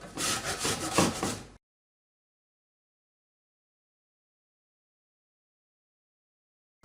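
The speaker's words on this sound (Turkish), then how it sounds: "Bir tane kuru soğan ve iki diş sarımsa rendenin ince yeriyle rendeliyorum." One dry onion and two garlic cloves rubbed across the fine side of a grater, making a brief raspy scraping for about a second and a half before everything goes silent.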